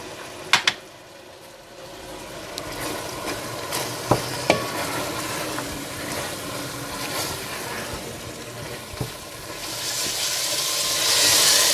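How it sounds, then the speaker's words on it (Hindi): Salt, dried chili powder, ground green chili and turmeric stir-frying in a pan for fish biryani: a steady sizzle and hiss with occasional sharp clinks of a spoon, growing louder and steamier toward the end. "नमक, सूख मिर्च पाउडर, पिसी हुई हरी मिर्च और हल्दी पाउडर डालकर अच्छी तरह से भून लें।"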